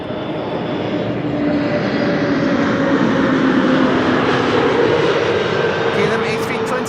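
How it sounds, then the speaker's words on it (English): KLM Airbus A321neo jet arriving from Paris at Amsterdam Schiphol, its engine roar loud and steady and swelling slightly as it nears, with a voice talking over it. "KLM A321neo, flight 1404, arriving from Paris"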